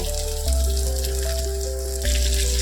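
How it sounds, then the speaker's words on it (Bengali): Eggplant fries in a pan with a steady crackling sizzle, continuous and close, with a low mechanical hum and a faint tonal whine running underneath. "একদম একটু ভাজা ভাজা মতো করার পরে এর মধ্যে আমরা পেঁয়াজ কুচো দেবো।"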